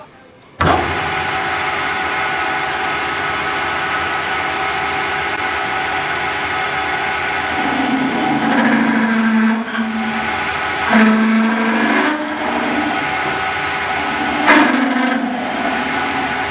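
A metal lathe hums steadily with a constant motor whine as a drill bores through the centre of a metal workpiece, the cutting biting in with rising grinding bursts and a few sharp scrapes.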